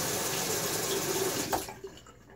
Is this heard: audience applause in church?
no